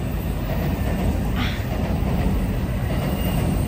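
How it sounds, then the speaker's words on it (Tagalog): A long train rolls steadily past in Tokyo, a continuous loud rumble with a brief squeal partway through. "Oy, grabe ang haba ng train."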